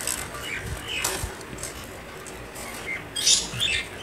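Pet birds chirp and tweet in short, scattered calls around a home, faint and intermittent with a few brighter chirps near the end.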